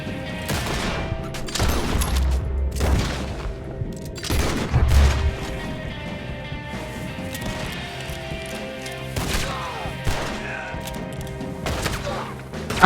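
Enemy gunfire in the video game Red Dead Redemption 2, repeated loud cracking shots and booms spaced irregularly across the scene, with little talk.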